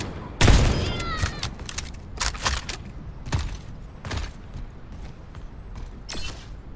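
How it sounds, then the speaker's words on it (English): Gunfire in the video game Overwatch 2 comes as a loud opening burst followed by several more sharp, irregular shots, with mechanical clanks and creaks between them and brief game voice lines. "Someone shot me."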